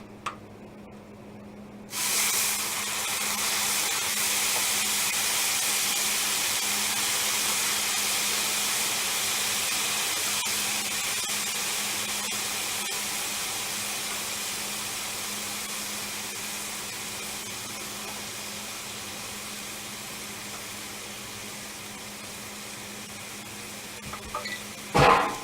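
A bed of onions for White Castle-style burgers hits a hot griddle, a sudden loud sizzling hiss that starts sharply and then holds steady, slowly fading over a long stretch, with a few clanks near the end.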